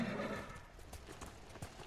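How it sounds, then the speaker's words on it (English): Horse in a video game clip-clopping with rhythmic hoofbeats and letting out a whinny, all faint and low in level, with no talking. "can we just ride this horse together?"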